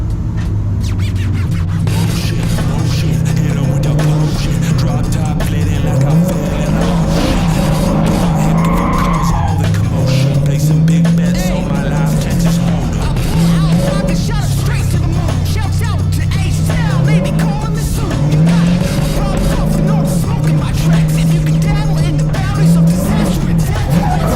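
A drift car skids through a qualifying lap at a Logatec drift event, its engine droning and wailing with long tire squeal throughout, loud and continuous, with a voice occasionally audible beneath.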